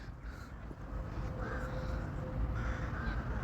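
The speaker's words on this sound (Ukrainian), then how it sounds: "От ці ворони." Crows caw a few times in the distance over steady wind rumble outdoors, harsh calls spaced apart and fairly faint.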